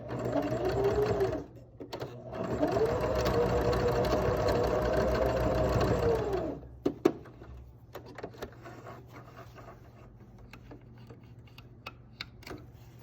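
Close up, a sewing machine runs in two fast bursts, stitching back and forth across a fabric face mask to close the wire pocket, then falls to quiet clicks and handling noises.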